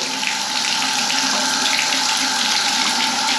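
Water runs steadily from a tap, a loud close continuous rush without pause, used while cleaning a bong.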